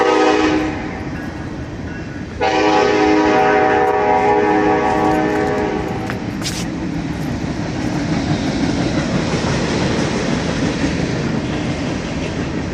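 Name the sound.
train going past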